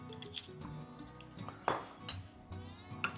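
Eggs with salt and black pepper are beaten for an omelette, a utensil clinking and scraping quickly against a bowl in uneven bursts, with a sharper knock partway through.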